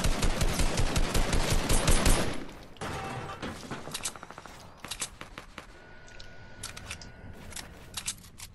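Gunfire in the video game Fortnite: a dense, loud automatic burst of rapid shots, then scattered single shots and short volleys fading to a quieter exchange.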